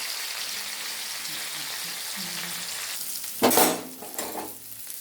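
Masoor lentil paturi with prawns and bottle gourd leaves fries in a pan with a steady sizzle, then a louder burst of stirring and scraping midway, with faint low murmuring underneath.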